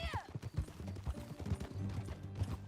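Horse hooves clip-clop in Red Dead Redemption 2, a quick series of soft thuds at a riding pace under music with jingling tack, moderately close and fairly quiet.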